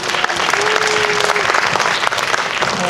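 Loud, dense audience applause after a student research presentation at an academy event, continuous clapping from a full room filling the whole stretch, with a faint tone held underneath.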